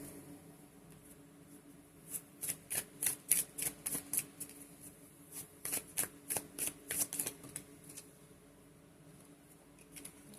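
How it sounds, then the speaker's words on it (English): Tarot cards are shuffled up close in quick, rhythmic bursts of crisp riffling, with short pauses between bursts in a quiet room. "So we'll go ahead and clarify with the tarot."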